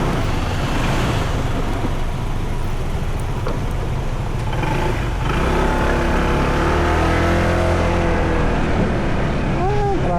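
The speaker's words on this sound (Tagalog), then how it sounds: "Traffic." Steady, loud road traffic rumbles through a congested town centre, with car engines droning continuously close by and a rising motor note near the end; no distinct voices stand out.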